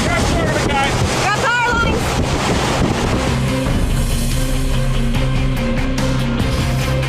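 Loud, continuous roaring tornado wind buffets the microphone, with a rumbling low drone underneath and faint voices mixed in.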